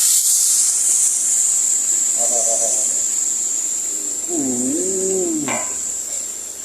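A steady, loud hiss of water poured into a hot pan of spicy stir-fried shark, sizzling continuously and easing slightly toward the end, with a few faint tonal sounds in the background.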